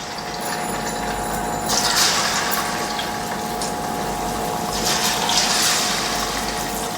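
Telangana-style chicken pakoda frying in hot oil gives a loud, continuous bubbling hiss close by, swelling slightly at moments, with no voices.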